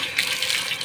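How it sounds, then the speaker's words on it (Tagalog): Steady rushing water, like a tap running full, a continuous bright hiss with no voices. "Tubig."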